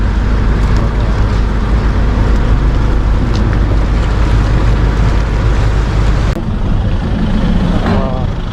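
A ferry boat arrives at a dock on a lake, its engine a loud, steady low rumble close by that drops off abruptly near the end, with water churning underneath.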